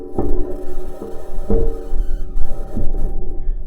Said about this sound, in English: This is the sound of the rover driving on Mars.